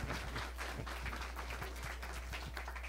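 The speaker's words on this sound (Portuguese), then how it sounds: "E uma salva de palmas para o Roberto Agoni" Audience at a technology innovation talk applauding a speaker, a steady wash of clapping heard faint and distant over a constant low hum.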